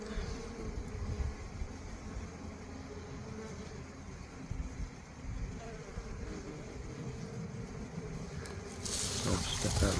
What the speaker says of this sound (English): the wasps come along and just grab a guard bee one at a time and take them away from the hive